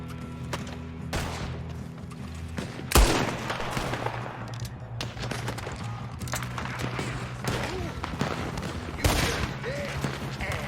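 Video game gunfire crackles during a Red Dead Redemption 2 shootout: scattered gunshots rise above a low droning score, with two sharp loud reports standing out, and game voices are heard in the background.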